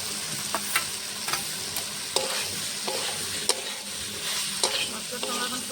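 Steady sizzling of soaked mixed vegetables sautéing in oily masala for a Bengali mixed-vegetable dish, broken by sharp, regular clicks of a spatula stirring against the pan.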